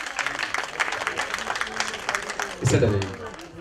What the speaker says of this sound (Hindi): भाई जोरदार तालियां होनी चाहिए